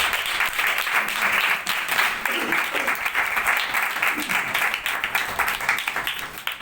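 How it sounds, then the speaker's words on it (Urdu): A church congregation claps loudly and continuously for the glory of God, a thick, sustained wash of many hands striking together, with a faint voice underneath at times. "آئے زور کر تالیاں خدا کے جلال کی"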